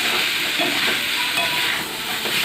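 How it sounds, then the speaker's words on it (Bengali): Ground spices frying in a pan while being stirred, a steady loud hiss of sizzling oil with soft scraping of the stirring, close and continuous. "আমি ভালো করে নেড়ে নেব এটা বাকি গুঁড়ো মশলাগুলো দিয়ে"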